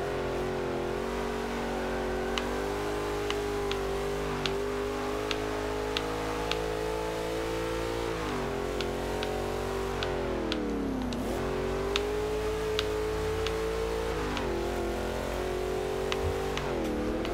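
A class D race car in Forza Motorsport 5 races with its engine droning steadily and climbing through the revs, dipping briefly at gear changes and corners, with faint regular ticking beneath and no talk.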